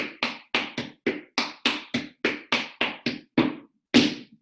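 Tap shoes striking a floor in paradiddle steps: about fourteen crisp, evenly paced taps and brushes in a steady rhythm, close and clear, ending with a pause and one final heavier stamp.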